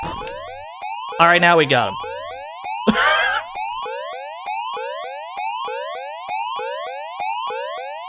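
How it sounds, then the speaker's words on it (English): A cheap-sounding siren effect in a video game, a repeating rising electronic whoop cycling steadily through the whole stretch, loud and close, with someone briefly talking over it early on. "We spent all the budget on this siren sound."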